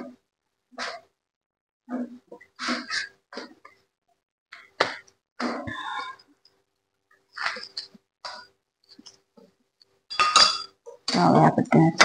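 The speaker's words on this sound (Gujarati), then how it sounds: "હવે આપણે તેને સારી રીતે હલાવી લઈશું." A spoon stirs red chili powder and other spices in a cooking pot, making scattered metallic clinks and scrapes in short bursts with pauses between them.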